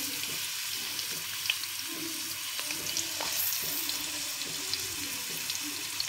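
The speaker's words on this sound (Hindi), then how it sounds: "ये तकरीबन 4 छोटे प्याज मैंने काट के रखे हुए थे, अभी इसको थोड़ा फ्राई करते हैं।" Four small chopped onions fry in hot ghee with a steady, close hissing sizzle and faint crackles throughout.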